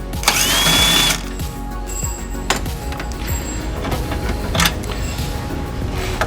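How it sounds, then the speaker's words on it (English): A power tool spins a 10mm socket to remove the bolt holding the washer fluid reservoir on a Ford Maverick, giving a loud whirring burst up front followed by quieter ratcheting and clicking. "we're going to go ahead and remove this bolt attaching the washer fluid reservoir, and we're going to be needing a 10mm socket"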